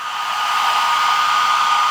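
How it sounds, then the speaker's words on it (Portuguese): A hair dryer runs steadily on a 2500W TSM power inverter, a loud, continuous airy whir holding level throughout with no voices. "Vamos novamente com o secador."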